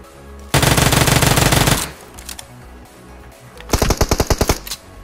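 A loud, rapid burst of Uzi fire in a video game rattles for over a second, then a second shorter volley of distinct shots follows after a pause.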